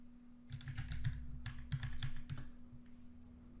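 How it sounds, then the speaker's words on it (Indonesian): A password is typed on a computer keyboard in a quick, close run of key clicks lasting about two seconds, over a low steady hum. "Kita masukkan password yang sama ketika kita login dengan cyber panelnya."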